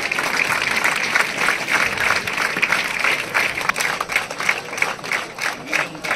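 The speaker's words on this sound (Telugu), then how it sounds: "అందరూ క్లాప్స్ కొట్టండి." Children clap together at the launch of a school program, a dense, steady burst of applause from a crowd that rises and falls over several seconds.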